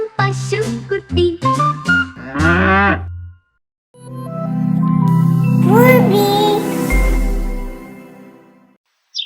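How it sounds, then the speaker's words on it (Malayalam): A calf moos in a Malayalam children's song, with long, low lowing calls set among sung lines and bright musical accompaniment. "തുള്ളിച്ചാടും പശുക്കുട്ടി, ഇമ്പയിമ്പേ പശുക്കുട്ടി"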